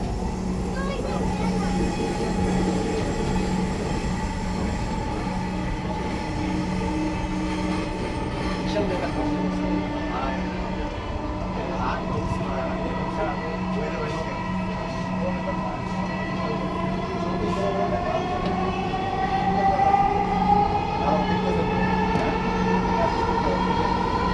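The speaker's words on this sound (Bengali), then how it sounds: "this train is bound for Motijheel next station is Uttara centre" A Dhaka metro train bound for Motijheel runs steadily with a continuous low rumble and rising whine, while an announcement voice speaks over it.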